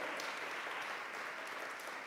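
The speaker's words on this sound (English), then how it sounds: "Yeah, you can clap for that." An audience claps steadily, a dense wash of applause at even volume throughout.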